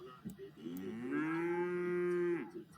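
A cow moos in a Fortnite-style Garry's Mod game, a single drawn-out low bovine call of about a second and a half that rises and then falls away, heard fairly close and clear with no talking over it.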